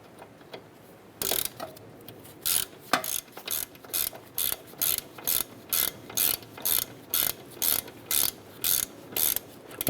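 A ratchet clicks in quick, regular bursts while tightening a lower ball joint bolt on a 2008–2012 Honda Accord, the strokes close and crisp in a steady rhythm with no talking.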